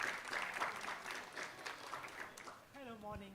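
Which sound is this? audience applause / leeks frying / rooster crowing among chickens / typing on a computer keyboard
audience applause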